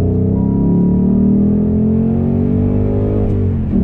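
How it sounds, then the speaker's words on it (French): A Ford GT's V8 engine accelerating hard on a race circuit, a loud, close, continuous roar with pitch climbing steadily through the gear, thick low rumble underneath and no talking. "Déjà ce qui fait du bien c'est de retrouver le bon V8"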